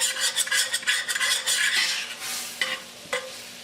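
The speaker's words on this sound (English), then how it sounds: "Stir that up until melted" A spoon scraping and stirring melted butter with paprika in a pot, sizzling gently underneath, with quick metallic scrapes and a couple of sharper clinks near the end.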